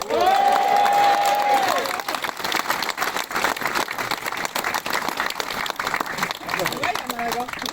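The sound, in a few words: audience applauding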